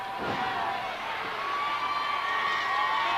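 A wrestling crowd in Tulsa cheers and roars steadily throughout, a loud, dense wall of shouting and whoops that fills the arena from start to finish.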